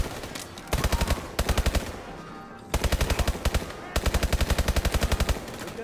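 Rapid automatic gunfire from the video game Call of Duty: Advanced Warfare rattles in several loud, evenly spaced bursts separated by short pauses, close and dominant.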